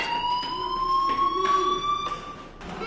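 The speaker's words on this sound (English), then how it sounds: "do you hear that fire alarm? That means you should be outside." A fire alarm rings in the Life is Strange video game, a steady, loud electronic tone with high harmonics sounding continuously for about three seconds, pulsing slightly, with no talking over it.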